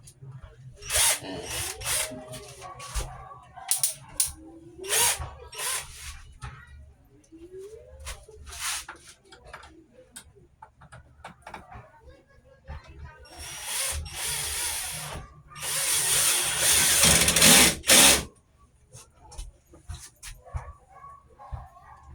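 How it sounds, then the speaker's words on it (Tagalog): Power drill driving screws during an air conditioner installation, several short bursts of whirring spaced through the clip, the longest near the end, close and fairly loud with background noise between. "Ngayon, kabit natin itong tornilyo."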